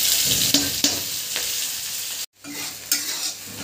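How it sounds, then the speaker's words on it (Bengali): Chopped onion sizzles in oil in a kadai with asafoetida and garam masala, a bright, continuous frying hiss broken by scraping stir strokes and one brief silent gap. "এতে দিয়ে দেবো পেঁয়াজ কুচি।"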